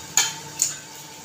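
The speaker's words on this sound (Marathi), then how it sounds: "कांदा चांगला परतून घेते।" Onion is sautéed in a pan while cooking val bhaji. Two quick scraping stirs cut through over a soft sizzle, close and brief.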